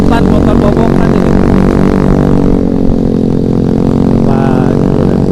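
A motorcycle with a stripped, open front end drones loudly along a mountain road on a solo tour, engine and wind noise close and continuous, with a slight rise in revs near the end.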